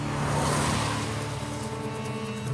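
A Ford EcoSport engine runs steadily at a low, even hum, with a quiet, constant drone and no speech.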